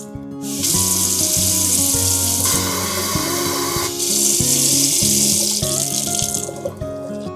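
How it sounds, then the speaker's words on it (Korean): A waterfall faucet runs a steady, loud stream into an embossed kitchen sink in a newly fitted apartment kitchen, with continuous splashing and background music underneath; no one talks. "이 제품은 겉에 엠보 처리가 되어 있어서 물 틀었을 때 소음이 좀 덜 나고 스크래치가 좀 덜 난다는 장점이 있어요"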